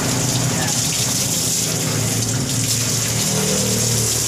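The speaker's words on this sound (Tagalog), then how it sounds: "Lalagyan mo na siya ng tubig." Water runs and gushes steadily while a pug is bathed over a floor drain, a continuous close splashing flow with a faint low hum underneath throughout.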